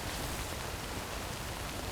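Steady rain in the Death Stranding video game, a dense, even hiss of falling water continuing unbroken at moderate volume, with no voices.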